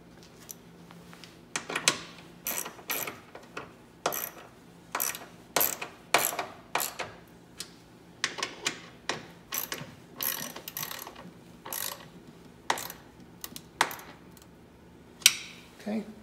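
A ratcheting socket wrench tightens nuts, giving quick bursts of clicking strokes repeated irregularly, close and fairly quiet against a faint background hum.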